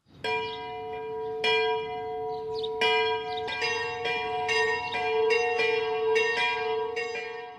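Church bell in a small tower, swung by its rope, ringing out in repeated strong strokes with long ringing overtones that overlap as the swing continues, fairly close and with no voices.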